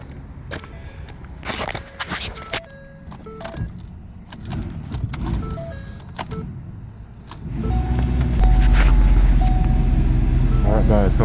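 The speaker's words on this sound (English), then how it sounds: "Alright guys, so now we crank the car. You can see it crank right up." A car engine cranks and then starts using a Hompow portable jump starter. Light clicks and rattles come first, then the engine catches and runs loud and steady close by.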